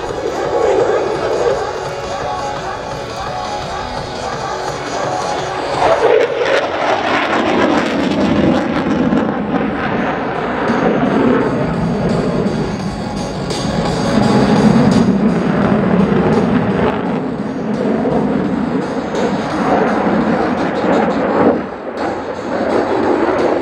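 A USAF F-16 Viper jet flies the Falcon Turn during a demo at the 2024 Dayton Air Show, a loud, sustained roaring rumble that swells and fades as it passes for over twenty seconds.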